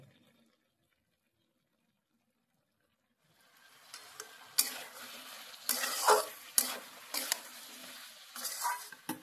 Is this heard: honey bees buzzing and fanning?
no